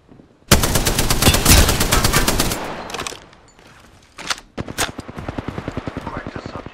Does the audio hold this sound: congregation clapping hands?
no